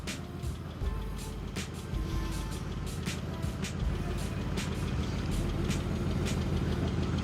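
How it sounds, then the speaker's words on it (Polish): An Audi RS6 idles after long storage in a chicken coop, a steady, close engine rumble with a dense low drone and no talking. "Zobaczcie, jak to auto po takim czasie postoju pięknie pracuje."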